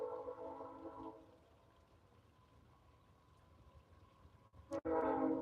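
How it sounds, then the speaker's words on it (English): A train horn sounds at the start, fades into a low rumble, then blares again loudly near the end. "See that? Hear that train?"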